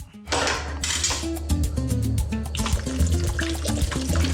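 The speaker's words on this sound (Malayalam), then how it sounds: "നമുക്ക് ഇതിലോട്ട് വെള്ളം ഒഴിക്കാം" Water is poured into a pulao cooking pot, a steady splashing pour with metallic clinks of pot and utensils in a home kitchen.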